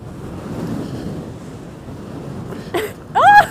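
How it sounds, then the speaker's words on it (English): Sea surf rolls onto the shore under gusty wind, a steady close rush with a brief burst of voices near the end. "The sea was going to get me."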